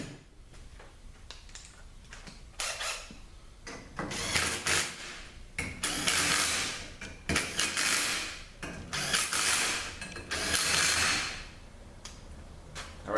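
A ratchet tightens bolts on a Ford 4R70W automatic transmission during assembly, repeated bursts of fast clicking close up with short pauses between strokes.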